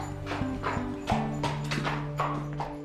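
Horse hooves clip-clopping on a ranch, a few distinct close knocks at an unhurried walking pace, with low steady background hum and no talk.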